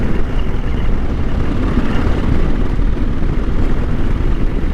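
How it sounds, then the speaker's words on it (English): A Husqvarna Norden 901 motorcycle accelerates in sixth gear, its engine giving a loud, close, continuous low-pitched drone and rumble of wind and exhaust with no talk. "Let's click this up. Alright, 6th gear. Let's see if she grunts up."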